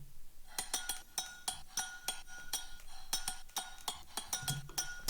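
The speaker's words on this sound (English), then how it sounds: "I found some glass percussion that I really, really like. This is what it sounds like." A glass percussion sample in a music track plays a quick, steady groove of bright clinking hits, dense and rhythmic at close range.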